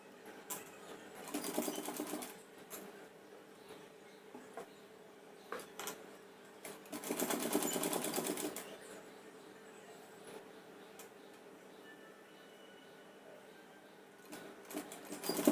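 Sewing machine stitching a lining piece of polyester cloth for a Punjabi dress, quiet and close, with two longer bursts of running stitches and short intermittent whirs between them, no voices.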